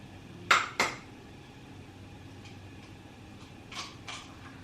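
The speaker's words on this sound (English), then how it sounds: "Let's go ahead and crack this guy open." An egg is cracked on a bowl rim while making molasses crinkle cookies, two sharp close taps followed by fainter clinks of shell and bowl a few seconds later, with no talking.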